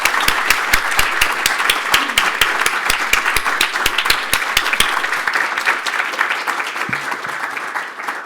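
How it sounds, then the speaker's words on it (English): A conference audience gives a big round of applause at the end of the event: dense, steady clapping from many hands, loud and sustained throughout, thinning slightly at the very end. "I'm sure this is a big round of applause"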